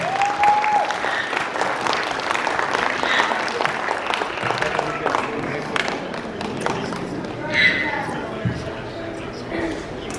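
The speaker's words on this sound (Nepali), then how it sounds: "हामी सबैजना ताली बजाउनेछौँ" Guests at a Nepali Christian engagement ceremony break into steady crowd applause, a full clapping wash lasting the whole stretch with voices mixed underneath.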